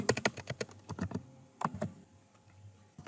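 Typing on a computer keyboard in Android Studio, a quick run of close, crisp key clicks followed by a few sparser taps trailing into quiet, with no talk.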